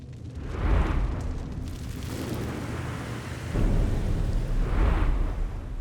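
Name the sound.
12-pounder cannon firing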